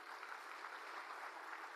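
A crowd at a political rally claps steadily in a continuous, even patter that sounds faint and distant throughout.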